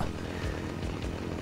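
Chainsaw in the video game Scarface, a continuous buzzing, rasping motor roar at moderate level with slight pulsing, no speech.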